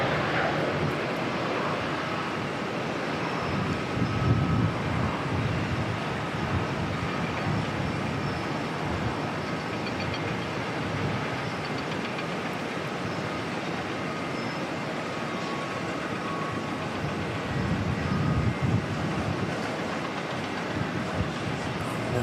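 Jet airliner engine spooling up at Auckland Airport, a steady broad roar holding throughout with slight swells, heard from a distance outdoors with no talk.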